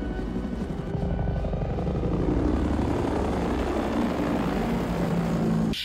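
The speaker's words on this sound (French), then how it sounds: "celle des 2 hélicoptères traversant la ville de Los Angeles la nuit" Two helicopters fly over Los Angeles at night in the film Die Hard, heard as a steady, loud, low rotor drone with a rumbling engine throughout and no voices.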